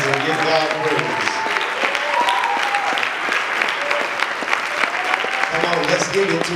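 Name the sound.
audience clapping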